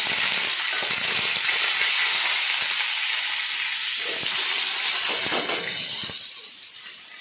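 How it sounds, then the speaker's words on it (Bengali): Whole scored pointed gourd (potol) fries in hot oil with a close, continuous sizzle and crackle, steady throughout and easing slightly near the end, with no voices. "তো প্রথমে পটলগুলোকে একটু ভেজে নিই।"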